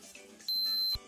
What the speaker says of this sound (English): and pushing it again toggles the alarm on and off